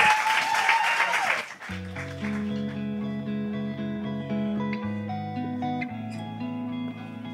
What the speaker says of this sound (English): can we just give him one last round of applause, Mr. Sean C. Johnson?